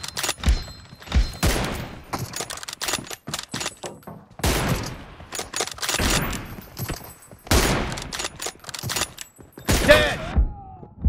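Rapid bursts of M24 sniper rifle gunfire in a 2v2 online shooter match, loud repeated cracks and thuds in quick succession over about eleven seconds with brief gaps, game announcer voice lines in between.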